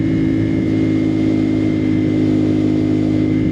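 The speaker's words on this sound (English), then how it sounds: "Is that a bike? It's a bike." Motorcycle engine droning steadily close by, a constant mid-pitched hum without much change, loud and alone with no talk.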